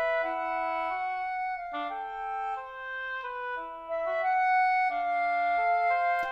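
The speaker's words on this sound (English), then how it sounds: "What you're hearing right now is some two-part isorhythmic music." Two interwoven melodic lines of clear, sustained tones move in steady note values, one part higher and one lower, playing alone with no voices.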